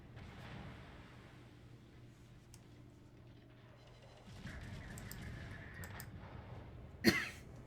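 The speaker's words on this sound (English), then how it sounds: "Sorry, bit of cough there." A single sharp cough close to the microphone near the end, rising briefly above a low, steady background hum from naval warship gameplay.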